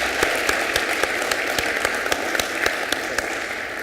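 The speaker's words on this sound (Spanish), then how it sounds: "Les pido un aplauso, por favor," Audience at an energy reform forum claps steadily, a dense, even wash of many hands with sharper individual claps poking through, continuing throughout at moderate loudness.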